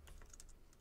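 A password is typed on a computer keyboard in a short run of quick, light keystrokes, close and quiet.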